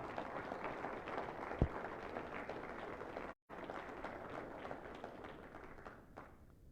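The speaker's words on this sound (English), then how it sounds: "So applause goes, please, to our city staff for executing all the things we did during the COVID pandemic." Audience applause for city staff at a 2021 State of the City address, a steady wash of clapping from a large crowd that drops out briefly midway, then continues and fades near the end.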